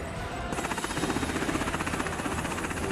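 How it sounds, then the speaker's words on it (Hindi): A Russian army helicopter flies on a military mission, its rotor beating in a steady, loud, rhythmic thump over a broad engine roar. "रूसी सेना का हेलीकॉप्टर अपने मिशन को अंजाम देने के लिए उड़ा"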